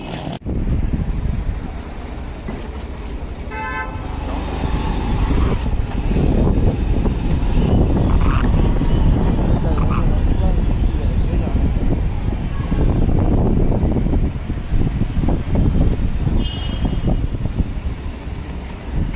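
Rough wind noise buffets the microphone during a cold-weather motorbike ride, a steady roaring rush lasting throughout with traffic sounds mixed in.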